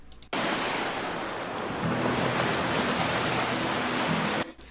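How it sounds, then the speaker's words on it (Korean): Steady, loud ocean surf rushes continuously after a sudden start, with a faint musical tone entering midway and the sound cutting off abruptly near the end, with no talk. "파도 소리가 너무 커서 음악이 안 들리죠"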